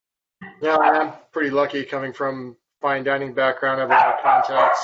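Dogs bark in the background at home while someone talks continuously through a webinar, with the barks mostly buried under his voice.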